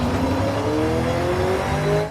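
A race car engine in Forza Horizon 5 holds a loud, steady high-revving drone with rising pitch, a brief clutch kick jolting the revs, with no talking.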